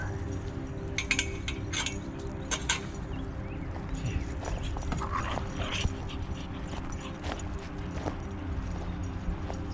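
Chloe, a dog, plays at a large park, with scuffling paws, jingling tags and clinking, and short sharp bursts of activity nearby over an open outdoor background.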